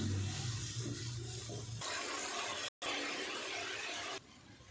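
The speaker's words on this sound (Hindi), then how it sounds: "तकरीबन मैं 1 गिलास इसमें पानी ऐड कर रही हूँ" Water poured from a glass into a pan of frying fish curry masala, a broadband splashing hiss with a brief gap partway through, fairly loud and close, with no voices.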